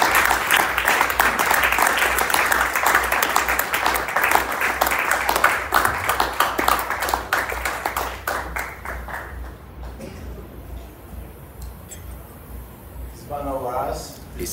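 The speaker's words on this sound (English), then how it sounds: "with a mighty round of applause, shall we receive His Lordship Justice Aboagye Tandoh." A large crowd applauds loudly and steadily with dense clapping, then the applause fades away and a voice begins speaking near the end.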